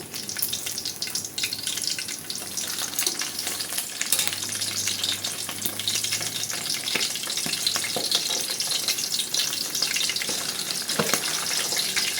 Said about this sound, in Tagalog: At ngayon naman po ay dumako tayo sa pagbabaligtad ng ating pinipritong isda.